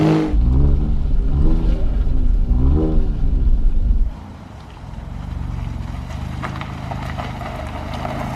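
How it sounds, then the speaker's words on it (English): An Alfa Romeo Giulia Quadrifoglio spinning and drifting down a home driveway, its engine revving in rising harmonic sweeps for about four seconds before dropping to a lower, steady rumble. "I'm spinning. Just drifting down the drive."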